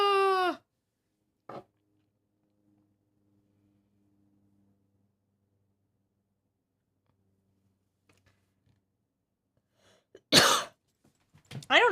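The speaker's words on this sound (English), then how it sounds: "I don't know why I'm suddenly coughing." A man coughs and clears his throat indoors, with one harsh hack at the start, a brief short cough soon after, then near-silence before a louder, rougher cough burst and a shorter follow-up near the end.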